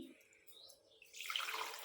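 Water pours into washed soaked wheat for kurdai with a brief splashing rush near the end, quiet and close, following a moment of near silence.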